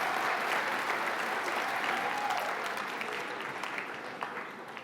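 A graduation ceremony crowd applauds pharmacy technician diploma graduates with a steady, full round of clapping that gradually thins and fades toward the end.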